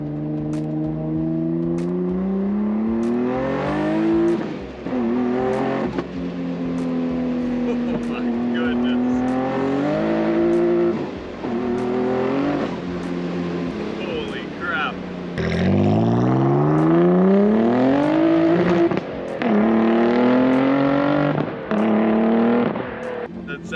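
A 650 WHP Nissan 300ZX accelerates hard on a street drive, its engine roaring and climbing in pitch through repeated gear pulls, with sharp drops between shifts, heard loud from inside the car while people talk over it.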